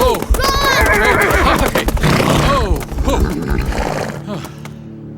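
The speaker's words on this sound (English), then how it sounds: "It's the wild horses! They're back!" Several wild horses on an island whinny and neigh loudly in a busy, layered scene, with rising calls and hoof noise under excited voices, then the sound drops away near the end.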